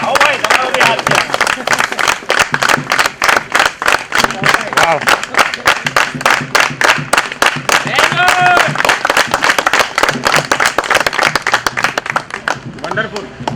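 Sustained audience applause at an annual day function, steady clapping for over ten seconds while a voice keeps talking over it, tapering slightly near the end.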